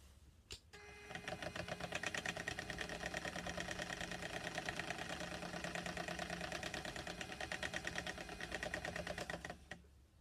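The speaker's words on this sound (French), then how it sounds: "Ça, ici, j'ai mon rouet." A spinning wheel spins cat fibre into yarn. After a sharp click it sets up a steady, rhythmic whirring clatter that runs for about nine seconds and stops near the end.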